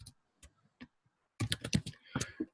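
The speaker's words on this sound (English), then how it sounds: "You just type in here" Typing on a computer keyboard, a few isolated key taps followed by a quick close burst of clattering keystrokes, no talking.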